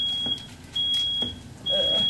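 A kitchen smoke alarm set off during cooking after the stove was turned off, sounding three high, thin electronic beeps in an even repeating pattern, each about half a second long, fairly close in a quiet room.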